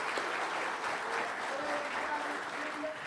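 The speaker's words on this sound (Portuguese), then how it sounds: "Aplausos." Audience applause at a legislative seminar in Brazil, a steady, moderately distant wash of clapping lasting the whole moment with faint speech-like tones under it.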